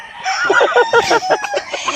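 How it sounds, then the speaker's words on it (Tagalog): Chickens clucking and a rooster crowing nearby, several overlapping calls in quick succession. "Mga manok."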